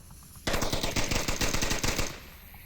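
Rapid automatic gunfire in the VR shooter Onward, a sustained burst of about a dozen sharp, evenly spaced shots fired into a window, loud and close, ending abruptly after roughly a second and a half.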